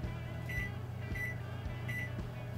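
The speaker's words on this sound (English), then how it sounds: "So I'm setting the timer for 46 minutes." Short electronic beeps from a kitchen timer being set during a home brew of cream ale, repeating at a steady pace, fairly faint over a low hum of background noise.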